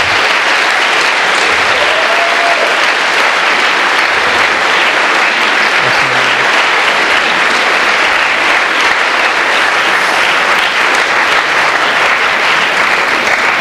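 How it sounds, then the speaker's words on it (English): Loud, sustained applause from a university debate audience at Cardiff University, a dense wash of clapping that fills the hall without pause for over thirteen seconds. "Can we have a round of applause for our two speakers"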